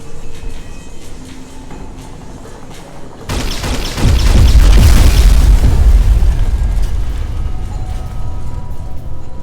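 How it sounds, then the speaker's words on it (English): An airstrike in a military video game lands as a sudden heavy boom, then a loud, deep, rolling explosion rumble that swells for several seconds before fading into a lingering low roar. "Calling an airstrike."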